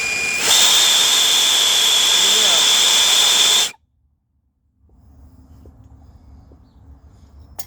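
An acetylene turbo torch for HVAC brazing burns with a loud, steady roaring hiss, then cuts off abruptly into near silence, followed by quieter background noise and faint ticking.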